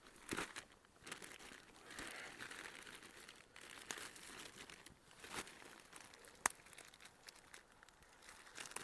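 Plastic bags crinkle and rustle at lunch in the woods, irregular soft crackling handled close by, with a few sharper clicks and quiet gaps.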